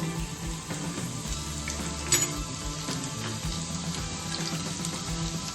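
Garlic goes into a hot pan of tempering oil with a little urad dal for lemon rice, giving a steady, soft frying sizzle with a brief louder crackle and no talking.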